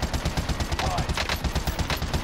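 Rapid automatic gunfire from a gold-skinned gun in the Warzone video game, a steady stream of close, punchy shots in quick rhythm lasting the whole stretch.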